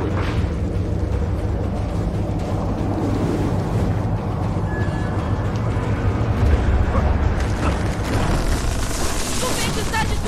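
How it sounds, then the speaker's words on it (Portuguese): A howling windstorm in Gears of War 4 roars as a dense, continuous rumble with gusty swells and a rising hiss near the end, with voices partly buried under it. "O vento está destruindo tudo!"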